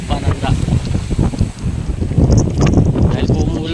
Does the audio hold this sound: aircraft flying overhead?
no